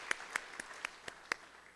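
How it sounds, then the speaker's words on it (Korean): A few scattered, sparse claps from a church congregation at a Christmas service, about six separate hand claps, faint and spaced apart. "영광의 박수 올려드리도록 하겠습니다"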